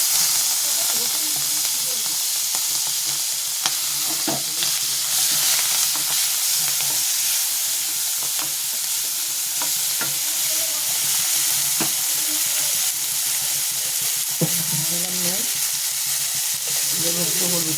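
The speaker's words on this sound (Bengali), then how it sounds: "চিংড়ি মাছটা ভাজছি, চিংড়ি মাছটা ভাজা হয়ে যাচ্ছে" Prawns with turmeric hiss and sizzle continuously in hot oil, a dense close frying roar with occasional spatula clicks and scrapes throughout, no speech.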